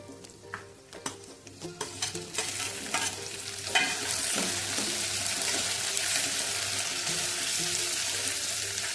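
Tomatoes for a chole dish hit a hot pan and fry with a loud, steady sizzle. Quick scraping clatters of stirring come first, then a continuous hiss fills the rest.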